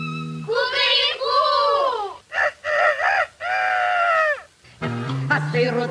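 A singer imitates a rooster crowing in a children's song, with several long, loud, sustained vocal calls broken by short pauses.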